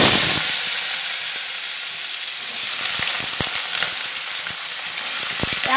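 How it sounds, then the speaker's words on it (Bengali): Shukto vegetables with spices sizzling and frying in a pan, a steady bright hiss broken by sharp scrapes and clatters of stirring, close and fairly loud. "আর শুক্তাটা মশলা দিয়ে একটু করছি, নাড়াচাড়া করছি।"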